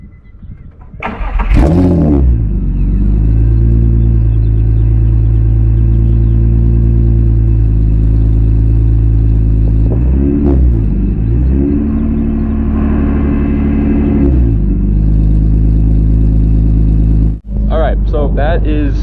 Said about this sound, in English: I'll start up the car real quick and let you get, I'm gonna put the GoPro back there so you guys can get a nice little sound test of it